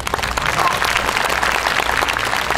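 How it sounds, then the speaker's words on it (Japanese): A festival crowd at the Wakasa Obama YOSAKOI festival awards ceremony applauds the judges, giving a steady, dense burst of clapping from many hands. "盛大な拍手をお願いいたします"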